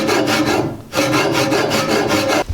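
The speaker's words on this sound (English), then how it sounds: "now we can cut in the arrow shelf" A saw rasps back and forth in quick, even strokes, cutting the arrow shelf into a black locust recurve bow, close and loud with a brief pause midway.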